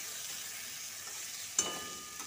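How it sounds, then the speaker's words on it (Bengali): Finely chopped onion fries in a pan over medium heat, a soft continuous sizzle with a brief stir or clink near the end, faint and close. "পেঁয়াজটাকে ভেজে নেব"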